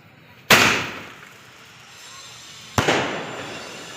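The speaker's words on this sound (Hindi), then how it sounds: "अभी जो दिवाली में भी काफ़ी दिन बाकी है, फिर भी पटाखे फोड़ रहा है।" Two firecrackers go off on a street ahead of Diwali, each a sharp loud bang followed by a crackling fizz that fades, spaced about two seconds apart.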